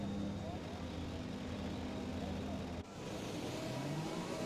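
Race cars on a formation lap at a US Grand Prix, engines droning steadily at a moderate distance, a dense continuous hum with a brief dip partway through, while a commentator talks over it.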